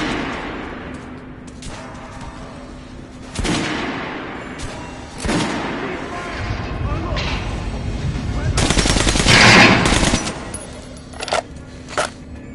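Bursts of gunfire following a shouted order to fire, loud sharp reports and rattling volleys at irregular intervals building to a dense, sustained barrage, with voices shouting between the shots.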